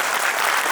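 Audience applause at a kavi sammelan poetry recital at Chandigarh University, a dense burst of many hands clapping together, loud and brief.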